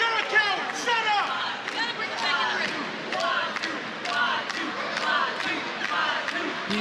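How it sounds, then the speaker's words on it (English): Wrestling show crowd cheering and chanting the Fatu name, a dense roar of many voices with rhythmic shouts throughout, steady and fairly loud. "People cheering the Fatu name left and right"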